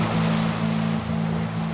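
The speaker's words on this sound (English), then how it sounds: "Today the waves are repeating, but no two waves are alike." Ocean waves washing over tropical flats in Okinawa, a steady broad surf rush with a low droning hum beneath, heard close and fairly loud.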